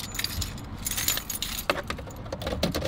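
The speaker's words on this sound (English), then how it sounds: "Damn, I forgot my keys." A bunch of keys jangles close by as it is handed over, bright metallic clinks and rattles in irregular bursts over a faint low background hum, with no one speaking.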